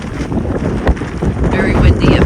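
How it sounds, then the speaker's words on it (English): Strong, loud wind buffets the microphone in continuous gusts on the Max Patch mountain top on the Appalachian Trail, with a deep rumbling roar throughout. "Very windy up here."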